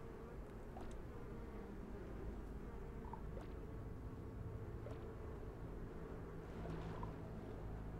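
Bees buzz in the video game Donut County, a faint, steady low drone that runs the whole time with a few soft, brief blips and no speech.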